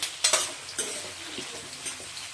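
Onions fry in a pan while a spoon stirs them, giving a soft sizzle broken by a few clinks and scrapes against the pan at irregular moments.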